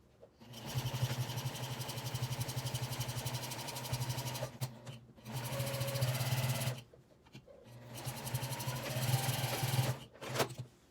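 A sewing machine sews the sides of a fabric project bag with a half-inch seam allowance, running in three steady whirring bursts separated by short pauses, fairly quiet and close.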